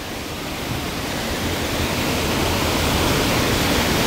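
A steady, dense roar of falling water from the Karumparai waterfall near Keeripparai, Kanyakumari district, fills the scene, constant and loud with no pauses, swelling slightly as it continues.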